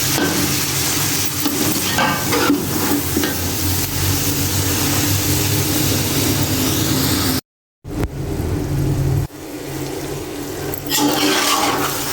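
Liver frying in a pan as red chili powder is stirred in, giving a loud, steady sizzle with scraping stir noise that briefly cuts out partway before carrying on.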